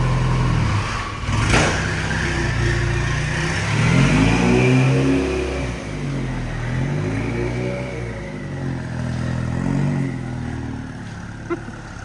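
A truck engine on a test drive revs and accelerates, a rumbling mid-pitched drone that rises and falls in pitch with a clattering undertone, close and continuous.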